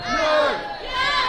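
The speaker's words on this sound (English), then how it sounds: "Crowd not keen on the idea" Wrestling crowd at a British pro-wrestling show reacting with disapproval, a loud sustained mass of voices that swells, dips briefly and rises again, with no commentary over it.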